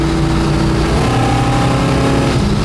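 A 1965 Pontiac LeMans with a GTO-like engine cruising down the highway on a windy day, its engine droning loud and close with a steady low rumble that rises slightly in pitch, no voices over it.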